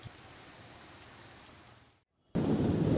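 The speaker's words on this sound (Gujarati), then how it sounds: "વીજળીના કડાકા ભડાકા સાથે મેઘસવારી આવી પહોંચી" Monsoon downpour in Gujarat with thunder: a soft rain hiss, a moment of near silence, then a sudden loud, roaring wash of heavy rain close by.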